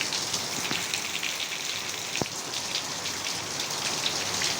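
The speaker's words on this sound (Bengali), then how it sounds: "প্রচুর পরিমাণ বৃষ্টি হচ্ছে, দেখতেছেন এই যে বৃষ্টি পড়তেছে।" Heavy rain pours steadily onto a village bamboo grove as a dense, even hiss of drops, with one sharp nearby knock partway through and no voices.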